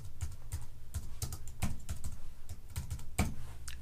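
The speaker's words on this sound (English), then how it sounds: "Now in the dialog box I'm going to type," Keys clack on a computer keyboard in short, uneven bursts of typing, close and fairly crisp, with brief pauses between words and no talking.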